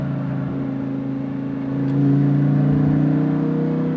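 A Lamborghini Huracan on a track at SpeedVegas: a steady engine drone that swells louder partway through as it accelerates, close and continuous with no voices.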